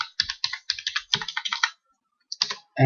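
Crisp, close clicks of a computer keyboard as a phone number is entered, a quick run of keystrokes followed by a short pause and a few more taps, with no voices.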